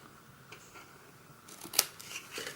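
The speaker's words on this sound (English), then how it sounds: "we're just going to snip in these flaps here as well" Scissors snip into the flaps of a small paper heart box, a couple of quick, crisp cuts heard close in a quiet room.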